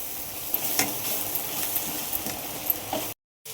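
Crushed garlic chili powder fries in hot oil, a close, even crackling sizzle with soft stirring scrapes, cutting to silence just before the end.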